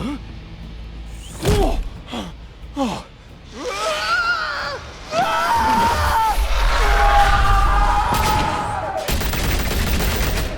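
Bursts of gunfire from the Batman: The Telltale Series video game, with sharp shots early, then rapid volleys under shouting, grunting voices and a sustained loud stretch of action noise.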